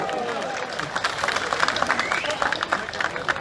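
A political rally crowd breaks into applause, a thick wash of clapping and cheering with shouting voices over it, building steadily.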